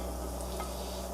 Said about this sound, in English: Going to add mushrooms into a frying pan